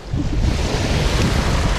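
Loud, rumbling surf from big ocean waves during a storm, a continuous heavy roar with wind buffeting close to the microphone.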